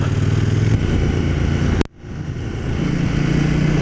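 KTM Duke 790 motorcycle riding on an uneven road, engine droning steadily and loudly with wind, a brief sharp dropout near the middle before the engine note returns.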